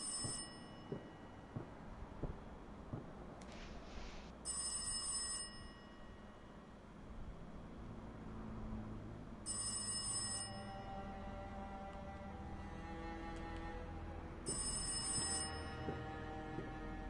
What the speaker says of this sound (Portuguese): Onde está o telefone?